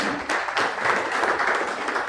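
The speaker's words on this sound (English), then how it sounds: "Can you have a big round of applause for them?" Audience applause at a talk on Chanakya's Neeti Shastra: a full, sustained wash of many hands clapping, fairly loud and even throughout.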